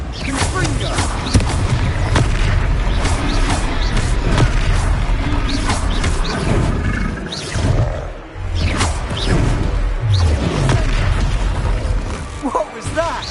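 Magical blasts boom and crackle in a Hogwarts video game duel, with loud fiery bursts and whooshes over dense, continuous battle effects.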